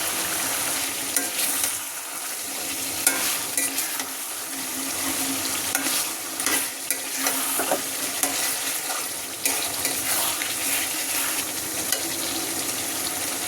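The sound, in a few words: chicken being stir-fried red in a wok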